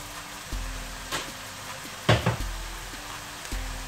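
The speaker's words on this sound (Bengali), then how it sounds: "এগুলোকে ভালো করে মিলিয়ে আর একটু সময় ধরে ভেজে নেব।" Ground cumin, coriander and chili powder frying in a pan, a steady sizzle with a low background hum and several brief knocks and scrapes of stirring, one louder clatter near the middle.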